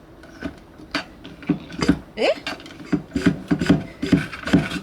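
A hand pump jack is worked up and down to raise a camping trailer bought cheaply at auction, making loud, close, rhythmic ratcheting clicks and mechanical creaks in short repeated strokes.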